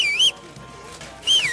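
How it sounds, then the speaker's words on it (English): A game character whistles a wavering, rising-and-falling tune in Kingdom Come Deliverance 2, with two short whistled phrases separated by a quiet gap. "Stop that whistling! You're behaving like a child!"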